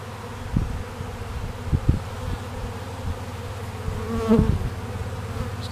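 A dense swarm of honey bees buzzes steadily up close, a continuous droning hum with occasional louder passes near the listener.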